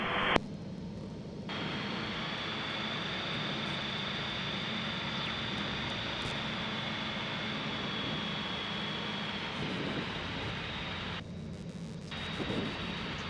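Skyranger microlight aircraft engine on final approach to a grass runway, heard from inside the cockpit as a steady, continuous drone with wind noise throughout and no talking.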